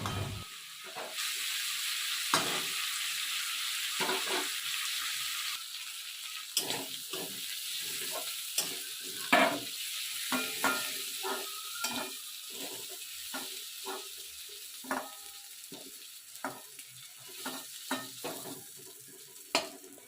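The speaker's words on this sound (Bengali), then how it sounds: "এখন সেই চিংড়ি মাছগুলো কড়াইতে দিয়ে দিলাম দিয়ে আমি প্রথমে এই চিংড়ি মাছগুলোকে খুব ভালো করে ভেজে নেবো" Prawns frying in hot oil in a kadai give a steady, loud sizzle throughout, broken by repeated sharp clicks and scrapes of a spatula stirring them, with no talking.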